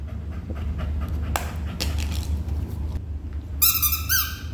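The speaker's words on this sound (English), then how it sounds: "Squeaky dog toy." A dog pants and plays with a squeaky dog toy in a workshop, steady close breathing and low rumble with a few short squeaks, then a quick burst of high squeaking near the end.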